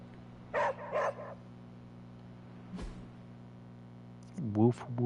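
Hunter, a dog in the video game Marvel Midnight Suns, gives a few short barks: two quick ones near the start, a faint one in the middle and a louder pair at the end, over a steady low hum.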